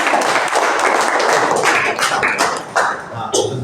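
Students applauding in a classroom, a dense sustained patter of many hands clapping at once, loud and close throughout with a few sharper taps near the end.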